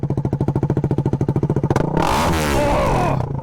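A CFMoto Ibex 450 adventure motorcycle idles with a steady, rapid thump, then is revved hard, the engine note swelling loud and close before easing back down.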